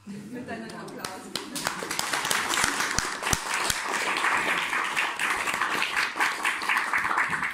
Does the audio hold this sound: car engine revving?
no